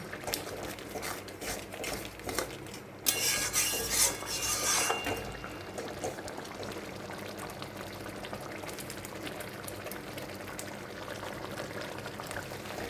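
Pineapple frying with salt in a pan for chutney, with a loud burst of sizzling and stirring midway, then a steady softer frying hiss with occasional utensil scrapes.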